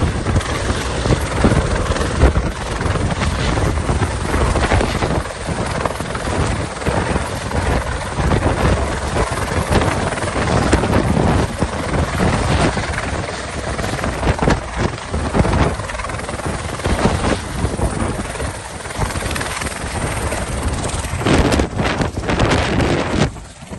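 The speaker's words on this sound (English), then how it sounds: "I actually filmed the landing last night and you can see what a powerful machine the EC-130 is." A Eurocopter EC-130 helicopter lands in strong, raging wind, its steady roar blended with heavy wind buffeting the microphone, loud and continuous with no talking.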